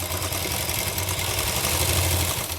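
A sewing machine stitches along the folded-in hem of a wrap palazzo trouser, its motor whirring in a steady, close, continuous hum with no talk over it.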